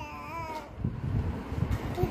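A cat gives one short, clear meow up close, followed by muffled rustling and handling noises.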